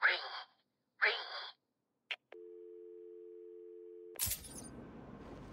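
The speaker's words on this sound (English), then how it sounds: "now I have to find the ringing phone." A telephone tone in the video game Batman: Arkham City, a steady electronic beep held for about two seconds after short bursts of a voice, then cut off by a loud crash and rumbling game noise.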